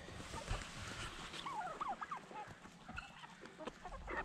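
Chickens cluck and gobble close by in a busy flock, with quick wavering calls rising over soft rustling and scratching sounds.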